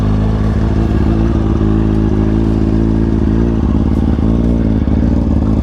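A loud Kawasaki ZX6R motorcycle engine with a short can stunt exhaust idles close by with a throaty note, blipping up in several quick revs before settling back, continuous throughout.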